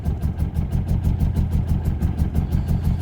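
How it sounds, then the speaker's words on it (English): A Mercedes 190E engine at full throttle misfires, running on only some cylinders, a lumpy uneven chugging with a regular pulsing beat about six times a second, close and fairly loud, with no voices. "Hey, it's running on some cylinders."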